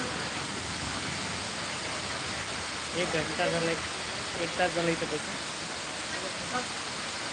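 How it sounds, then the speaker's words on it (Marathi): Steady rain keeps falling at a roadside spot where a man sits sheltering, a dense even hiss filling the whole stretch while he talks in short bursts over it. "सारखा पाऊस चालू असल्यामुळे मी इथं बसलेला आहे"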